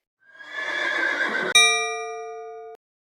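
A horse gives a loud, clear whinny lasting just over a second, followed straight away by a ringing quiz-style chime that decays slowly, from a children's animal-sounds quiz.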